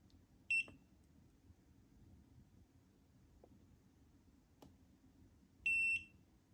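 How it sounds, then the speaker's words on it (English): Two short, high-pitched electronic oil pressure alarm beeps from a gauge display in a Mazda NC Miata, several seconds apart, sharp and clear against a quiet background with faint clicks. "the main oil reading is turning yellow with an audible alarm"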